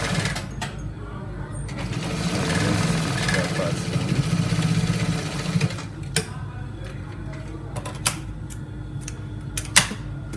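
A sewing machine hums steadily for several seconds sewing down a trouser seam, then stops, leaving scattered clicks and handling knocks; a voice talks over the machine.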